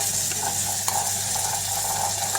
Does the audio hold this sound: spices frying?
yes